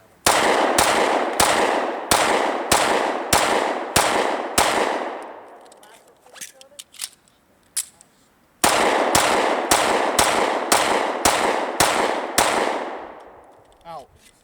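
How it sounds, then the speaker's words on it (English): A 1911 pistol fires about eight rapid, evenly spaced shots, falls quiet through a reload with a few faint clicks, then fires another rapid string of about eight loud shots. "This is a 1911. Right now I have 8 rounds in the magazine, and we're gonna just do a practice, reload, and fire."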